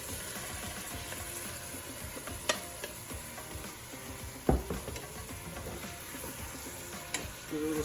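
Browned meat and its juices for a carne guisada stew go back into a quietly sizzling pan, with a steady low frying hiss broken by three sharp utensil clanks against the pan.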